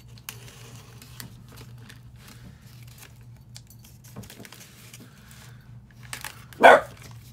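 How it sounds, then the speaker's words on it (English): A dog gives a single sharp bark near the end, loud and close, after a quiet indoor stretch with a low hum and faint clinks and rustles. "you barking for everybody?"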